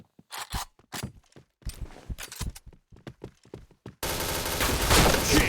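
Rapid video game gunfire during headshot practice, sharp separate shots cracking over the first few seconds before a dense, loud burst of continuous firing takes over to the end.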